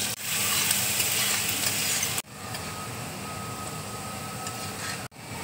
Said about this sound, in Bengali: কড়াইয়ে দেখো তেল দিয়েছি, তেল দেখো গরম হয়ে গেছে। এবার আমি রসুন কুচি দেখো দিয়ে দিচ্ছি।